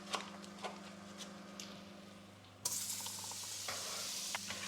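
Butter sizzles in a frying pan as herring is cooked, a soft continuous crackle that swells suddenly louder partway through with scattered small pops.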